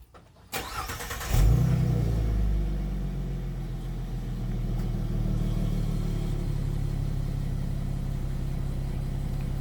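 A 2017 Ford Mustang V6 with its muffler deleted cranks and fires up near at hand, a sharp start bursting into a loud, deep, steady idle that settles with slight rise and fall.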